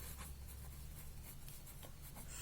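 A pen writing on paper while working a math problem, faint scratchy strokes in short quick bursts over a low steady hum, quiet and close.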